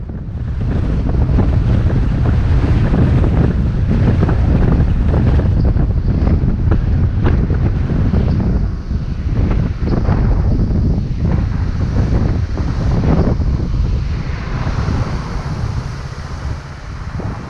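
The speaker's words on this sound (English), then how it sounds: "It's funny that things don't seem to be waving in the wind, but the wind is just whipping." Strong wind buffets the microphone continuously while riding a scooter around Taipei, a loud, steady broadband roar with gusty surges and no talk.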